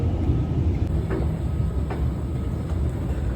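A Mumbai metro train rumbles along with a dense, continuous low roar and faint rattles inside the carriage. There is no talking.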